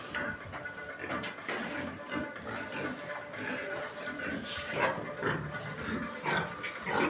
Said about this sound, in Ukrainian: Оце хрячок Ландрас PIC 337.